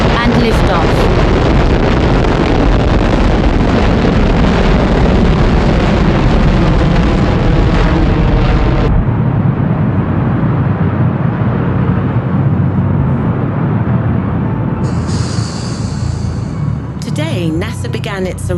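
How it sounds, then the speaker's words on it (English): A rocket liftoff at a NASA Orion mission launch, a loud, sustained broadband roar and rumble that fills the air, then eases slightly while crowd noise and a voice come through near the end. "9, 8, 7, 6, 5, 4, 3, 2, 1, and liftoff."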